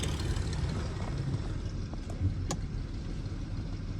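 A BMW E46 with a blown head gasket rolls in gear, a low, quiet, steady mechanical rumble with a couple of brief clicks partway through, and no speech.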